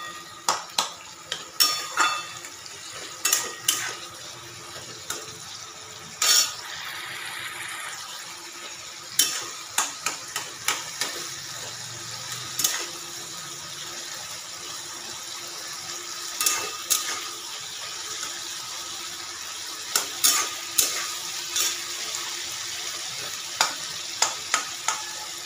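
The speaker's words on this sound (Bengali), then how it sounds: "এবার একটু এই টমেটো পেঁয়াজ আদা রসুন একটু গ্যাসটা বাড়িয়ে দেবো, সিমটা দিয়ে আমি এখানে এগুলো একটু ভাজা ভাজা করে নেব।" Tomato, onion, ginger and garlic fry over raised gas heat in a pan, a continuous close sizzle broken by frequent sharp scrapes and clinks of a spatula stirring, with no talking.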